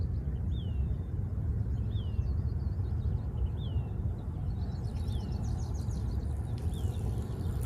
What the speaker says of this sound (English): I choose to hear the bird's song.